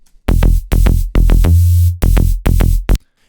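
A synth bass remake plays punchy, deep plucked notes in a bouncy rhythm, with a long held tone in the middle and a bright hiss riding on each attack, alone and loud.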